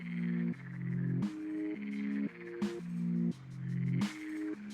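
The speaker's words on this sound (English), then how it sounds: "Perched on a lily pad, a frog serenaded the night" A frog croaks at night beside a pond, giving about four rhythmic, drawn-out calls in a steady repeating pattern, close and clear with no talking.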